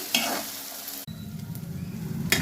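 Onions fry in a pan, a steady sizzle with stirring scrapes and a sharp jump in crackle about midway, close and loud with no voices.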